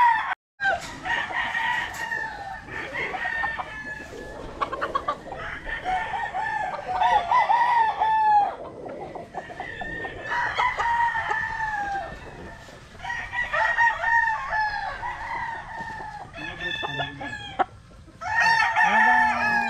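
Gamefowl roosters crowing repeatedly in a farm yard, several loud overlapping cock-a-doodle-doo calls with clucking between them, one bird close and others farther off.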